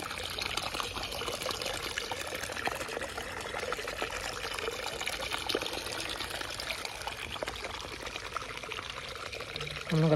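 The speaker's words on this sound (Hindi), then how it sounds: "देखिए, आपको पानी का आवाज़ सुनाई दे रहा होगा।" Rainwater flowing steadily through a flooded, blocked street after days of heavy rain, a continuous close pouring and trickling rush that holds level throughout with no talk over it.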